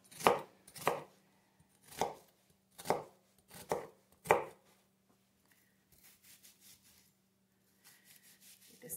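A knife chops onions on a cutting board in about six loud, evenly spaced strokes, followed by quieter scraping and light taps.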